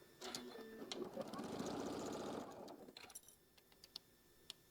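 A sewing machine runs a quarter-inch seam along the side of a quilt block, a quiet steady motor whir lasting about two seconds, then stopping, followed by light handling clicks and taps.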